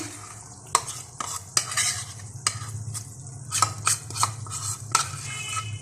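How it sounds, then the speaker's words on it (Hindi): Milk-soaked semolina is added to sugar syrup in a pan and stirred for makhadi halwa, producing close, uneven scraping and clinking strokes over a low sizzle, with no talking. "अब इसके अंदर मैं शामिल करूंगी भीगी हुई सूजी, जो दूध डालकर मैंने भिगो कर रख दी थी।"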